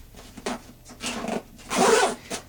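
A zipper is pulled along the storage bag of a Camp Chef Rainier two-burner griddle stove, several short rasping zips up close, with no talking.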